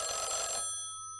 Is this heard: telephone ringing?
yes